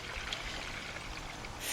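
Liquid pours steadily into the engine of a 2006 Kia Sportage 2.7 during a refill, a continuous close trickling wash that swells louder near the end.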